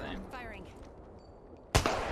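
Gunfire in Apex Legends: a single sharp, loud shot bursts out near the end after a quieter stretch of game ambience and a brief warbling effect.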